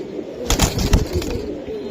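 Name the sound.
pigeons cooing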